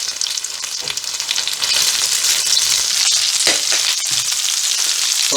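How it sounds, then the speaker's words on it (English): Ingredients for Bicol Express frying in hot oil until golden brown, a dense steady sizzle with crackling pops running throughout at close range, no voices. "we'll just fry this off and get it nice golden brown"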